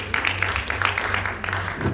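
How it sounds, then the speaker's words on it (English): Brief audience applause at a health talk, a soft, uneven patter of clapping from a small crowd with a low hum underneath, lasting about two seconds. "a round of applause"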